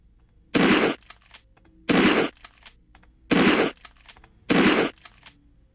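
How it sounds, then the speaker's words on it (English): A shotgun-style gun in a Lyra game project fires four loud, evenly spaced blasts. Each shot is followed by a brief mechanical rattle, with quiet gaps between and no talking. "So I'm going to fire a couple of rounds and then reload."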